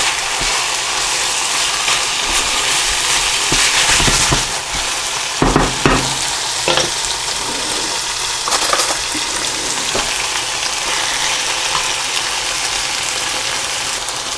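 Empanada filling with olives being stirred in a frying pan: a loud, continuous sizzle close up, with clusters of spoon scrapes and clatters against the pan in the middle and later, and no voices.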